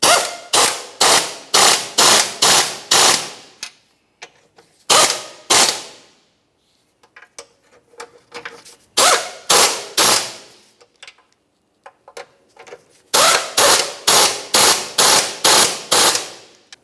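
A ratchet wrench runs engine mount bolts down on a 2009-2010 Pontiac Vibe, sharp loud clicking bursts in quick repeated strokes with short pauses between sets, close by.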